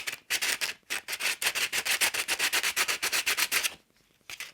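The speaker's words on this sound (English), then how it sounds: "I'm going to come in with my sandpaper and just" Sandpaper rubbed over a painted, textured journal cover, a fast rhythmic scratching of quick back-and-forth strokes, loud and close, pausing briefly before resuming at the end, with no voice.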